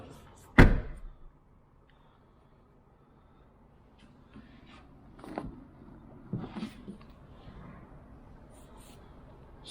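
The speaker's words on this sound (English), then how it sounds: "see if I can't shove the door out that way a touch" A car door being shoved into position: one sharp loud thunk near the start, then a quiet stretch and a few softer knocks and clunks later, with no talking.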